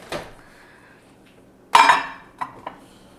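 A spoon stirs melted chocolate in a bowl, producing a few sharp metallic clinks and scrapes, one loud strike followed by lighter taps, close up in a quiet room with no talking.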